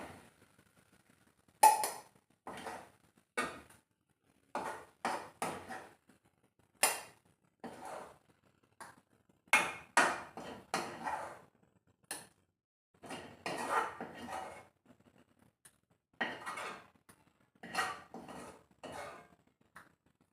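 Utensils and steel vessels clink and clatter sporadically as cooked gongura is scooped into a bowl in a home kitchen, a string of sharp, close metallic taps and scrapes separated by short quiet gaps.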